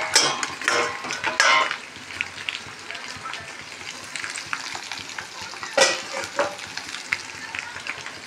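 Pakoras frying in oil in a kadai alongside chicken being sautéed, a steady crackling sizzle broken by scraping stirs and metal utensil clinks, with bursts of louder activity; a voice is faintly present at times.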